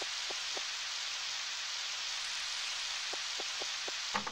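Rain falls steadily in Harvest Moon 64, a constant hiss of rainfall with a few soft plinking drops scattered through it and a brief louder patter near the end, no talk.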